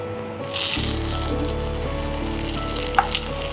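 Vanni leaves drop into hot oil in a pan and set off a loud, close sizzle that bursts up suddenly and then crackles steadily.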